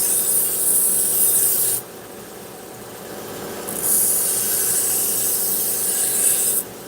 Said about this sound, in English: So people think with the belt sander you're grinding off all this material, but you don't.